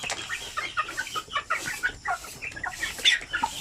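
Native chickens cluck close by in a farm setting, a busy overlapping run of short clucks and chatter from several hens, moderately loud and continuous with no voices over it.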